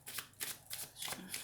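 Tarot-style cards are shuffled by hand for a card reading, in quick repeated riffling bursts, close and quiet.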